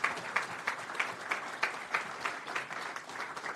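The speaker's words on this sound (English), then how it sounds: "Let's give her a round of applause for her hard work and dedication." Applause from the audience at a city council meeting honors an award recipient, a steady patter of many hands with distinct louder bursts, moderately near.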